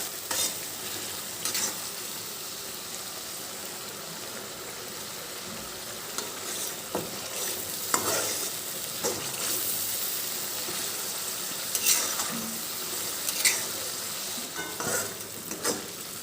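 Spices for a goat mutton curry frying in oil, a soft continuous sizzle broken by repeated spoon stirs and scrapes against the pan, close and moderately quiet with no talking.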